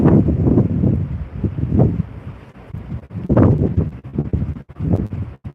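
Gusty wind on a cruise ship's deck buffets the microphone in loud, uneven surges, with rumbling bursts rising and fading and some faint clatter between gusts.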